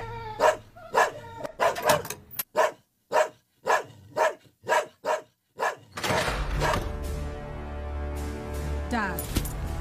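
A dog barks in a run of about ten loud, close, evenly spaced barks, followed by noisy street ambience with voices.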